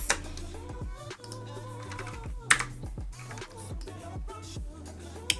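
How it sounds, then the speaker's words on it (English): Typing on a computer keyboard while building a flyer in Canva, with quick clicky keystrokes running steadily under a bed of background music. "And then I'm going to type messages."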